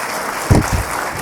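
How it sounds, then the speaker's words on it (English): Short burst of audience applause at an anime convention Q&A panel in New York, swelling briefly then fading back under a steady room hum. "can y'all give a round of applause for the gems they're dropping?"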